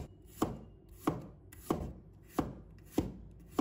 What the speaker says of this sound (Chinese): 再切成末，这里我们蒜末一定要将它切细一点